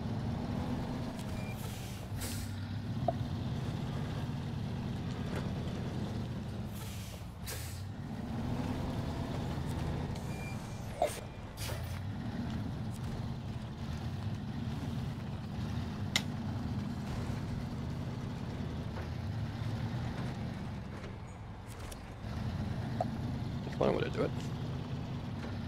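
Truck engine in the Snowrunner video game rumbles steadily throughout, with low droning revs that dip and surge, under occasional talk.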